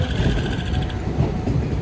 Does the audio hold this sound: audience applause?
no